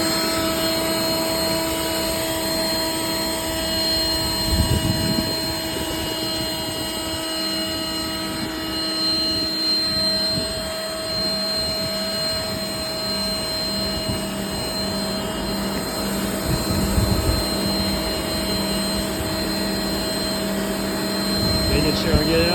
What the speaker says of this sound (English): I got the AC running here in the background.